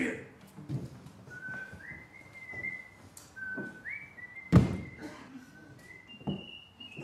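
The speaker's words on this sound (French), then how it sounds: "Comment il siffle?" Several clear, sustained whistled notes, some sliding up in pitch, with soft background rustling and a brief thud in between.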